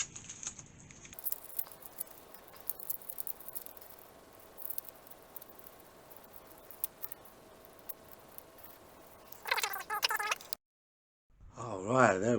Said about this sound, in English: let's unwrap our fans and see what these look like